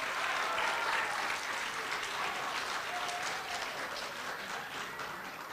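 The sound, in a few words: audience applause for a senator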